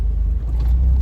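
A Brabus Smart car cruising at about 40 mph, with a loud, steady low engine and road rumble filling the brief moment, no voices over it.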